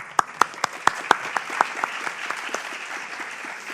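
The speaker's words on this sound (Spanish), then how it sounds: "Un fuerte aplauso." A crowd applauds, with several sharp, loud claps up close at first and a steady patter of clapping continuing behind them.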